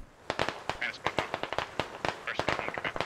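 Rapid, irregular gunshots ring out in the tactical shooter Squad, sharp cracks fired in quick succession at mid distance. Talk runs underneath the shots.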